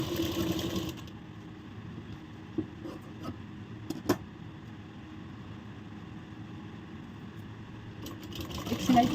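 Sewing machine stitching a blouse seam in one continuous run. A steady, fairly quiet mechanical whir holds for most of the clip, with a few small clicks.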